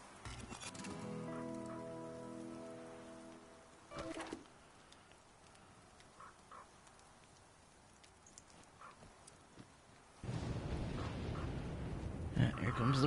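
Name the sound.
rain falling in the video game The Flame in the Flood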